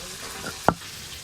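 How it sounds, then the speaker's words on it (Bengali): Giant freshwater prawns frying in oil in a pan make a steady soft sizzle, broken by one sharp clack of a spatula or utensil partway through, with no voices. "এই যে গলদা চিংড়ি মাছগুলো বেশ ভালো করে ভাজা ভাজা হয়ে গেল।"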